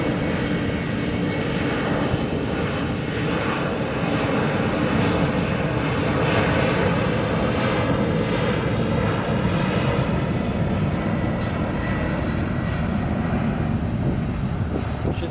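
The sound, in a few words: heavy jet airliner at Sky Harbor International Airport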